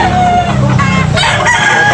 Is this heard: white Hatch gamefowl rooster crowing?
yes